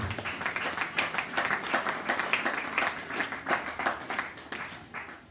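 A church congregation claps together in praise, a dense rhythmic patter of many hands, fairly close and sustained throughout.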